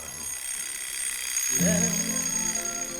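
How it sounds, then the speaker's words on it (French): A short alarm-clock ring plays as a sound effect on a French TV game show, a brief bright tone rising out of the studio background after a quiet stretch. "nous allons parler du réveil"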